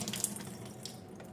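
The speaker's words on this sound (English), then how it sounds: "Take the water in your steam bag" Water poured out of a Medela Quick Clean microwave steam sterilizer bag, a brief close splashing trickle that gurgles into a sink.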